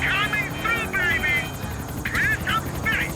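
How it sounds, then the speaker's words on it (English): Helicopter in the GTA IV video game, a steady rotor and engine drone with a low hum running throughout, heard under bursts of speech-like voices. "after Yusuf shoos us out of the building, he meets back up with us in the center of Star Junction the way that only he can to pick us up in his helicopter"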